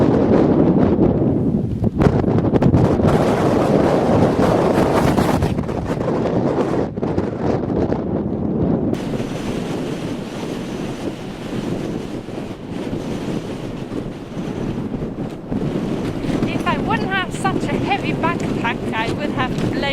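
Strong wind gusts through the Fish River Canyon, a loud, continuous broadband rush that roars and buffets close to the microphone, easing slightly midway before building again.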